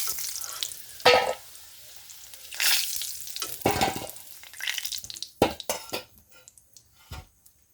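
Potatoes and whole cumin seeds sizzle in hot oil, with bursts of crackling frying and intermittent scraping stirs in a pan, growing busier toward the end.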